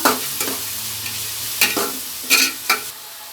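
A spoon stirs curry leaves and capsicum frying in a pan for millet vegetable upma, with scraping strokes in uneven bursts over a steady close sizzle.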